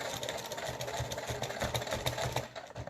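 Sewing machine running steadily while back stitching along the seam of a Christmas stocking, a close, continuous mechanical whir with rapid needle clatter and no talking.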